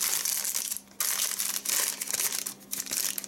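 A plastic Pyaterochka supermarket shopping bag rustles and crinkles close by, in several quick bursts over a few seconds, with no talking.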